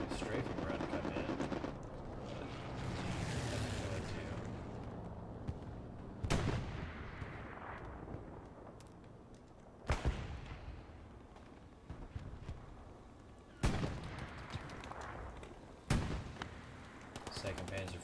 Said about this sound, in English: There's a strafing run come in.